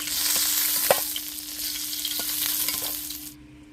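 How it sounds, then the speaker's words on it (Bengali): Rohu fish heads fry in oil with a continuous close hissing sizzle, a few sharp pops and a faint low hum beneath, fading out abruptly near the end with no voices. "তাই মাথাগুলো ভেজে নিচ্ছি রুই মাছের মাথা ভাজা হয়ে গেছে"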